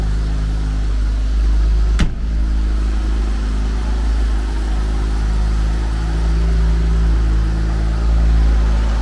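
Cold start of the engine in a 1972 Mercedes-Benz 280 SE W108: a sharp crank-and-catch near the start, then a steady, loud, low idle rumble that runs on alone for several seconds.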